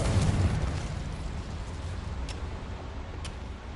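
A Confringo blast spell in Hogwarts Legacy bursts at once into a loud, broad explosive whoosh that slowly thins into a lingering crackling rumble, with a couple of small ticks near the end.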